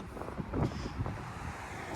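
Gusty wind buffets the microphone in low rumbling bursts during a walk along Finch Avenue West in North York, Toronto, and it swells and eases over a steady background of city noise.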